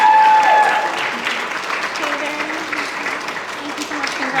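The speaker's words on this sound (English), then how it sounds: "another round of applause for this fantastic group of folks here." An audience applauds graduates at the Lavender Graduation ceremony honouring LGBTQIA+ students at St John's in 2024; the clapping is moderate and continuous, with a voice speaking over it.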